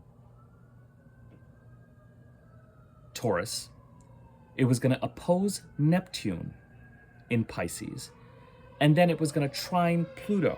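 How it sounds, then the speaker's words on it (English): An emergency vehicle siren wails faintly from outside, a thin rising and falling tone sweeping steadily underneath a person talking close by. "Excuse the siren."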